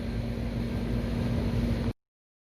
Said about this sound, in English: I'm going to get the Dremel fired up. We're going to cut out these things